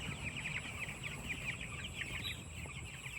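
Cornish Cross chickens in a brooder, a flock chirping and clucking continuously at close range, a steady busy chorus with a faint background hum and no talk.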